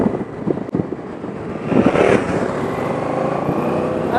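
A 1200cc V-twin motorcycle engine hums while riding, with wind buffeting and traffic rumble around it, loud and close, a brief knock early and a swelling rush midway.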